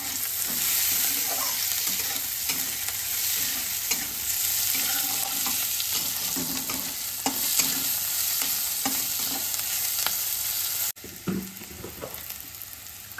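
Onion, green chili and garlic stir-fried in a pan, a steady close sizzle broken by repeated scraping stirs of a spatula, briefly dipping near the end before the frying resumes.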